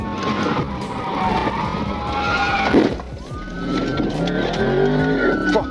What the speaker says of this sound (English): He spun out.